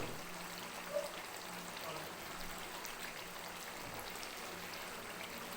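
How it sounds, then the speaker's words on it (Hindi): Water being poured into a pot of vegetable pulao while cooking, a soft, continuous splashing stream heard fairly faintly and steadily throughout. "अब हम इसमें पानी डालते हैं।"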